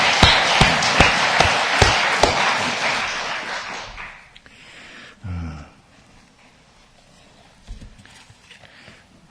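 A church congregation claps in a short burst of loud, close applause lasting about four seconds, then it dies away. Quieter low rumbles and shuffling remain in a hushed room after the clapping ends.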